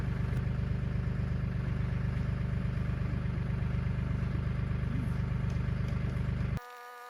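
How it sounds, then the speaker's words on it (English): Loose muffler on a Jeep Liberty scraping and rattling as the vehicle drives uphill, a dense, continuous low engine drone mixed with clattering, loud and close, ending abruptly. "Muffler's dragging now that we're going uphill"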